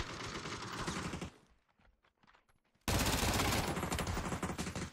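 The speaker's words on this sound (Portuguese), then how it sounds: "Tá trocando tiro com algum time ele." Loud bursts of rapid gunfire in a PUBG match, with a short lull between two sustained volleys and no talking over them.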